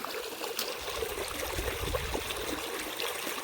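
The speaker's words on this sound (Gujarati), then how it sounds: "આ દંદુડો પડે ત્યાંથી પાણી આવે" Irrigation water pumped from a well gushes out of a pipe into a groundnut field, a steady rushing, splashing flow heard close and continuous with no talk.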